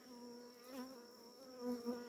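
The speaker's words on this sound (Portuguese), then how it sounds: "E agora as abelhas só aumentando o mel por causa da lua." Bees buzz steadily and close around a honeycomb of eucalyptus-sap honey, a continuous droning hum that swells briefly louder near the end.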